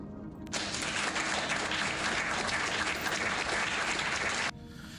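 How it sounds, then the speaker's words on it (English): A burst of applause starts abruptly, holds steady and dense for about four seconds, then cuts off sharply. "Round of applause."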